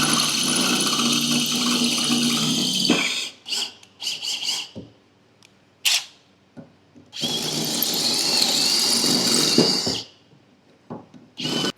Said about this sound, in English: I'm drilling the pulleys out